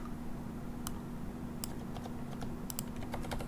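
Code is typed on a computer keyboard as sparse, soft keystrokes over a constant low hum. The taps come at an irregular pace and no one speaks.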